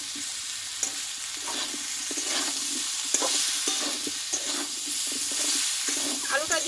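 Pumpkin and potato fry in a pan with spices and salt, a constant close sizzle broken by frequent scraping stirs of a spatula against the metal; a voice is faintly present in the background.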